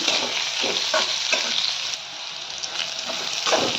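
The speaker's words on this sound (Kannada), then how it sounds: "ಚಂದ ಎಣ್ಣೆಗೆ ಫ್ರೈ ಮಾಡಿ ಹಾಗಲಕಾಯಿ ಕೆಂಪಾಗುತ್ತಾನ ಹುರಿವಿ" Bitter gourd pieces fry in oil with a steady close sizzle, punctuated by several soft scraping stirs at a loose, uneven rhythm, with no voices.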